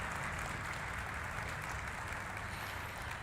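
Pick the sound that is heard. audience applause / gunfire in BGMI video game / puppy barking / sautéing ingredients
audience applause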